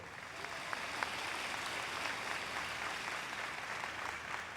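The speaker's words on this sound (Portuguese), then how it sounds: "Dê um forte aplauso ao Senhor." Congregation in a church service clapping in praise to the Lord, a dense, continuous roar of applause that stays even and loud throughout with a few sharper individual claps standing out.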